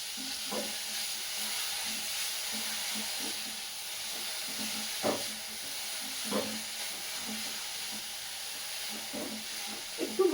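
Broccoli frying in a pan with ground black pepper gives a soft, steady sizzle and hiss with occasional stirring clinks and scrapes, fairly quiet and close, with no talk.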